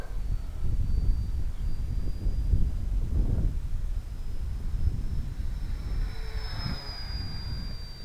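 A radio-controlled 750mm P-47 model airplane flies overhead into a light headwind at a little under half throttle, its steady motor whine and wind rumble continuing for about eight seconds with a faint rising pass near the end.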